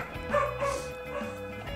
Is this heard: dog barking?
yes